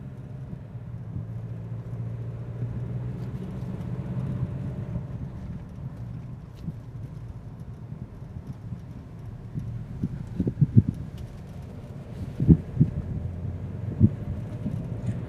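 An Isuzu D-Max 2.2L engine drones low and steady inside the cab while driving up a hill, with faint wind noise and occasional light knocks and clunks toward the end.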